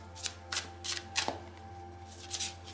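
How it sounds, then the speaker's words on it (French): Tarot cards are drawn and laid down one after another in a quiet room, giving about six soft, brisk card snaps and slides at close range over a faint steady hum. "regardez les cartes que je vais poser"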